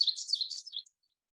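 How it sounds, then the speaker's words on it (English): An ovenbird, a forest warbler, gives a brief high chirping phrase of quick repeated notes, faint and clear against silence, then stops. "Ovenbird is a common warbler species in our forest with its strong teacher,"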